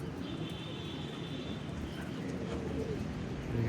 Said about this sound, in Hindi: ये देखिए जाल के ऊपर तो छोड़े ही हैं कबूतर।